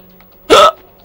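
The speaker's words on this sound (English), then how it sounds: "Oh, I've got the hiccups." A single sharp cartoon hiccup from a Ratchet and Clank game character, a brief loud voiced burst in the middle, otherwise quiet around it.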